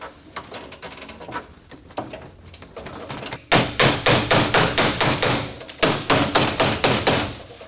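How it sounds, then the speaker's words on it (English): Hammer and chisel working on weatherstrip of a 1981 El Camino, lighter taps at first, then a run of sharp, loud, evenly spaced blows close by. "hammer and chisel time?"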